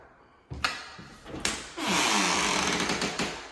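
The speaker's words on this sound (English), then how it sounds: "Pardon the squeak." A door in a newly built house opens with a couple of soft knocks, then a sustained creaking rush that fades gradually. It is moderately loud and there is no talk.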